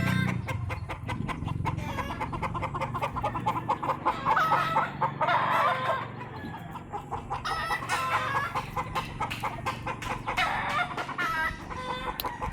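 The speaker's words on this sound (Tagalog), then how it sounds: "kulungan ng manok." Several chickens cluck and squawk close by in overlapping bursts around coops on a farm lot, with a rooster crowing partway through, over a low background rumble.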